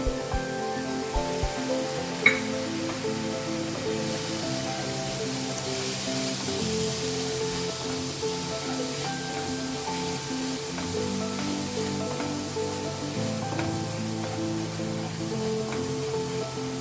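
Spices and mushroom gravy sautéing in a pan, a steady close sizzle and hiss that continues evenly, with a few faint clinks near the start and no talking.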